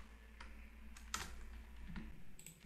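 Quiet computer keyboard typing of JavaScript code, a few sparse separate keystroke clicks close to the microphone against a low steady hum, with no speech.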